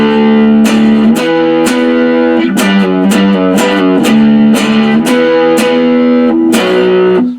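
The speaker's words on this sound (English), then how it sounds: "I could play this song with big pick strokes the whole time" Distorted electric guitar power chords of a riff, strummed across all six strings with big pick strokes, loud and sustained with a steady rhythm of repeated attacks, no voice.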